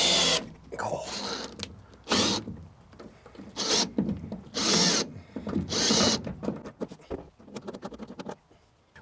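A power drill drives fasteners into an electrician's van floor while fitting new floor and side panels, running in repeated loud bursts with short pauses between, close by, with faint speech in places.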